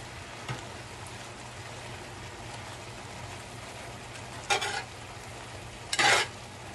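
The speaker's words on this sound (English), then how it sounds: "Just give this a little mix" A meat filling is stirred in a pan over a low sizzle and background hum, with two short scraping sweeps of a utensil near the end.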